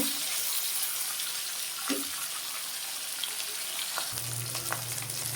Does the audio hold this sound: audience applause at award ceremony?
no